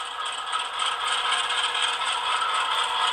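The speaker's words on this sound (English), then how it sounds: "And you hear that prime mover respond" A ScaleTrains HO-scale AC4400CW model diesel locomotive's prime mover sound throttles up, a steady, buzzy mechanical drone with a faint rattle that holds at an even, moderate level throughout.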